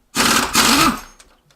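A pneumatic air impact gun on a motor mount bolt of an SRT-4, one loud buzzing burst of about a second that tapers off, close by.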